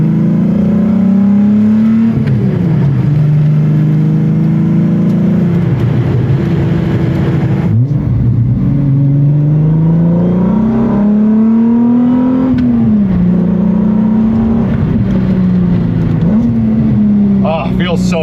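Upgraded five-lug car with AO52 tires driving on back roads, its engine droning steadily and rising and falling in pitch with repeated revs and shifts, close and loud throughout, with a voice talking over it.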